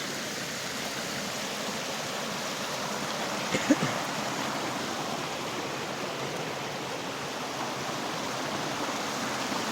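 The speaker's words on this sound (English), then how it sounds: "Little waterfall we got going on there has been cleaned off." Small waterfall spilling below a dam, its cleared rock face rushing with a steady broadband wash of falling water, continuous and fairly close, with one brief knock partway through.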